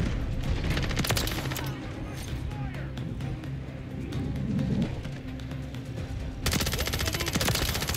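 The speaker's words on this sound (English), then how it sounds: "Looks like it puts out bullets pretty quickly." Rapid automatic gunfire from a fast-firing gun in a first-person shooter game on a chaotic multiplayer map, dense continuous bursts with a louder close burst at the end, while someone talks over it.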